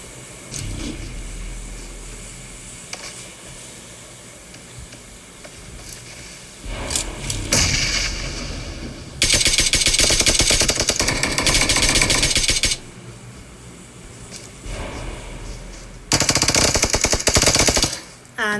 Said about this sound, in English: with shots being fired from both sides by Team 9